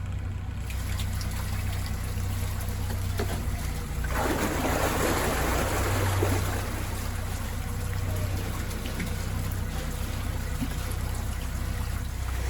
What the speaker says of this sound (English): One of the dangers of being in a lock, leaky walls.